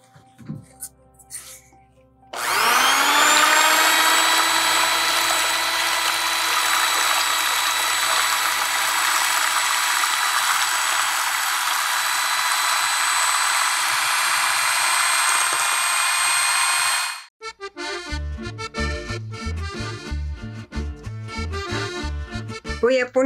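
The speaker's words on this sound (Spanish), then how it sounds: "batir la clara" An electric hand mixer beats egg white at home for a homemade cake, switching on loud and steady for about fifteen seconds with a tonal motor whine, then cutting off to quieter clatter.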